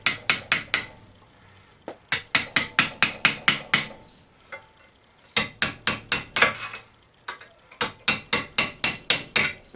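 A hammer strikes a chisel against a bearing on a Craftsman riding mower in rapid metallic clanks, delivered in quick runs of six to eight blows separated by brief pauses, loud and close.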